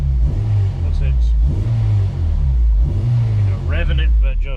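An 8th-generation Honda Civic Si engine, running badly with an intake far off and needing a tune, revs up and down in loud repeated surges close by while a person talks over it.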